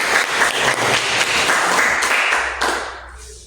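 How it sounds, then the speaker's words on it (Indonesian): An audience applauds after a teaching presentation, a dense burst of clapping that carries on for a few seconds and then fades out. "Mari kita beri aplaus"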